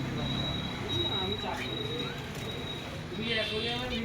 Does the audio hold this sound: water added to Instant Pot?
no